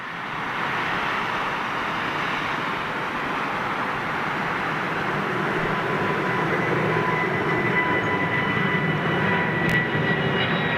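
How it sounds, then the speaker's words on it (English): A Qatar Airways Airbus A380 jet departs, its engines producing a steady, broad roar that holds for the whole stretch at a moderate distance, with no voices over it. "I'm gonna wait for this Qatar 380 to go out"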